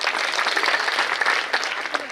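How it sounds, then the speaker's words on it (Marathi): Loud, dense applause from a village audience at a devotional kirtan, many hands clapping close by in a continuous roar with small swells and no pause. "सर्वांसाठी जोरदार टाळ्या."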